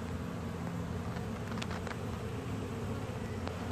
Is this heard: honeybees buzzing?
yes